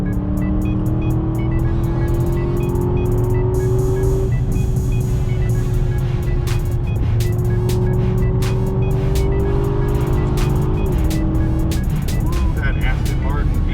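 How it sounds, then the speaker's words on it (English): An Aston Martin V8 engine hums loudly from inside the cabin, its pitch climbing and dropping with gear changes, while someone talks over it. "That Aston Martin V8 sound is so nice."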